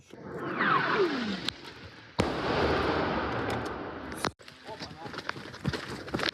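A heavy incoming artillery shell blast booms nearby, followed by another sharp impact a couple of seconds later, with rumbling debris and voices shouting in the background.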